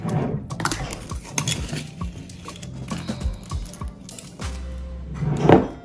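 A spoon stirs sugar into fresh ginger juice, with clinks and scrapes against the container in an irregular rhythm, close and moderately loud, no voices.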